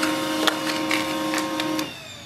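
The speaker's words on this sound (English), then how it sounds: "Your printer will print a page" Pantum printer running a Wi-Fi details page, with a steady mechanical whir and periodic clicks and feed pulses for about two seconds before it stops, heard close and alone.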